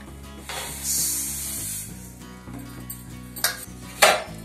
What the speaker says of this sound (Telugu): రాగులండి మొలక వచ్చినట్టు, మొలకెత్తిచ్చాం కదా, బాగా ఆరిపోయినాయి. వేయించుకుందాం ఇప్పుడు.